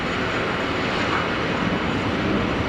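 An EasyJet airliner departing Geneva Airport roars steadily with broadband jet engine noise, loud and continuous, with no voices.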